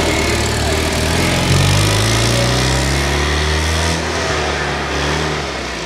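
A car engine runs loud and close, its pitch climbing steadily as it revs up and then settling into a continuous drone that eases slightly toward the end.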